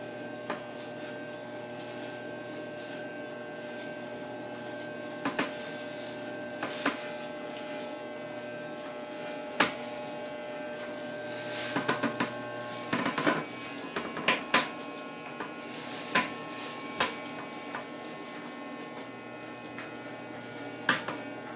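Electric hair clipper buzzing steadily while cutting a baby's hair, a close continuous hum with brief clicks and louder bursts as the blade moves through the hair.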